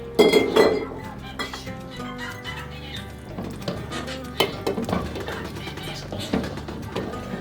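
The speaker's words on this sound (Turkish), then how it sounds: "Hemen sımsıkı kapağını kapatıyorum." A glass jar of spicy round pepper and tomato pickle is filled and its lid screwed on tightly. Loud glassy clinks come up close at the start, then lighter clatter continues over steady background music.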